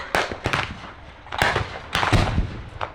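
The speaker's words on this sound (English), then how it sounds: "She's opened up with her 6 pounds. 6-pound common shell, high explosive shell." A WW1 tank's 6-pounder gun fires high explosive shells during a battle re-enactment at Tank Fest, several sharp booming reports in quick succession, loud and close, each followed by a brief rumble.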